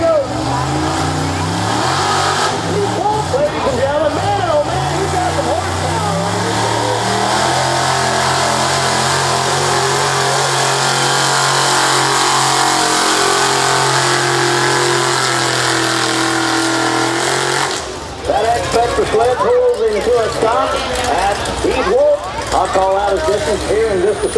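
A pulling truck's engine at a county fair truck pull holds a loud, sustained roar that climbs in pitch, drops off, then surges again with harsh revving near the end.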